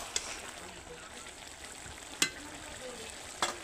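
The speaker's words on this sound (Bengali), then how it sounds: "অল্প সময় নেড়ে চেড়ে নেব" Bottle gourd and fish head curry stirred in a pan, a soft continuous sizzle with a few sharp spoon scrapes against the pan, quiet and close.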